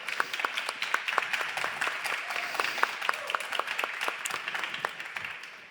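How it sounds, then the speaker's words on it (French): A conference audience applauds its speakers, a dense, even run of claps that holds steady and fades slightly toward the end. "S'il vous plaît, applaudissez nos speakers."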